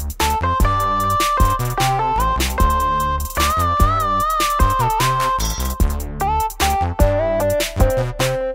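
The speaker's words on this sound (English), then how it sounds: "So now when I press inward on the neck," An Artiphon Instrument 1 played through GarageBand with string bend switched on, so pressing inward on the neck bends the notes. A steady run of plucked, synth-like notes plays loud and close, with the pitch wavering and sliding and no talking.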